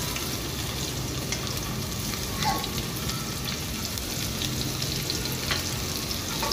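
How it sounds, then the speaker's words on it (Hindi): Onions and cumin sizzle steadily in hot mustard oil, a dense, even frying crackle with small pops, close and continuous with no talking. "प्याज हल्की सी फ्राई हो जाएगी तो इसके अंदर हम मसाले शामिल करेंगे"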